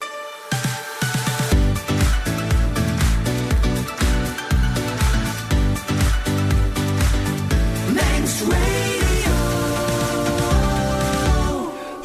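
Folk music plays as a dense, lively ensemble with steady rhythmic pulses and melodic lines. The recording is loud and continuous, with no voices over it.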